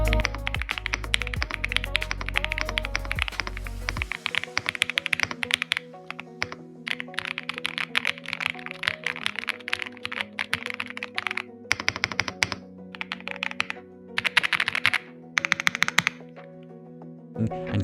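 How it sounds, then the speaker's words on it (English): Brisk typing on a Kreo Swarm 75% wireless mechanical keyboard, gasket-mounted with a polycarbonate plate and layered sound absorption, gives dense runs of close, crisp keystrokes broken by brief pauses, with a low hum under the opening seconds. "Inside, it has 5 layers of sound absorption, which help reduce vibrations and give you a smoother, more premium typing sound."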